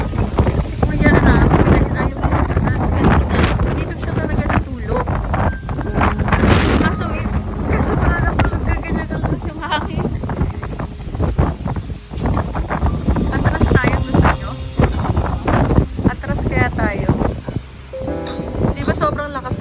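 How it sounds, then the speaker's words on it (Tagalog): Strong gusts of wind buffet a parked jeepney at night, a loud continuous roar and rumble of wind against the vehicle with rattling bumps, while people talk over it. "sobrang lakas ng hangin, oh"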